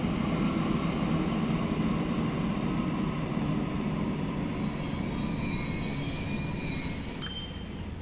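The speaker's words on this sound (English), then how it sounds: "Just grind forward until that train comes into port." A train pulling into a terminal in the transport simulation game Transport Fever, a steady rumbling roll with wheels squealing faintly, no talk.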